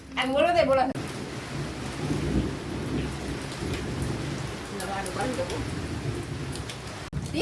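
Steady heavy rain pours with a deep rumbling thunderstorm and windstorm underneath, while a voice briefly speaks at the start and again partway through.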